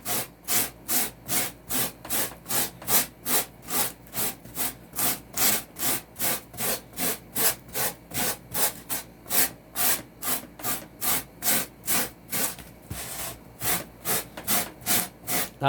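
Sandpaper rubbed over a carved styrofoam doughnut shape, steady rhythmic back-and-forth scraping strokes, about two per second, close and clear with no voices.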